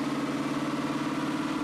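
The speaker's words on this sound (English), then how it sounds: "Now Mike lets the engine idle until it reaches a stable operating temperature" A car engine idles on a Dynojet chassis dynamometer while warming to operating temperature, a steady, close, even hum with no talk over it.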